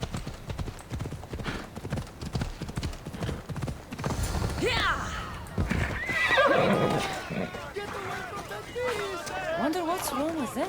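Horses neigh and whinny repeatedly over steady clip-clopping hooves in the video game Assassin's Creed Odyssey, with people talking underneath throughout.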